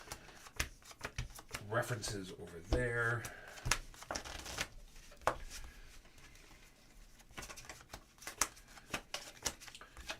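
Decks of playing cards shuffled together thoroughly, giving dense riffling and flicking bursts up close amid ongoing talk, with crisp papery patter through much of the stretch.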